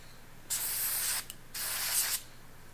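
An airbrush sprays cleaner in two steady hissing bursts of about a second each, close and fairly loud, separated by a short pause, with no voices.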